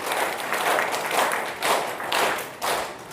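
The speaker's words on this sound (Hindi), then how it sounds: "ऊपर ताली बजाओ।" A group of school students claps hands together in bursts of dense, lively clapping, close and fairly loud.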